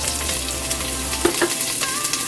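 Onions dropped into hot cooking oil for a Filipino crab in coconut milk dish; a loud, continuous close sizzle, with a low rumble that stops partway and a few brief utensil clicks.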